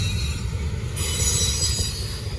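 Norfolk Southern freight train rolls past on the Charlotte District, a loud close rumble of wagons with high wheel squeal rising midway, steady and continuous with no voices.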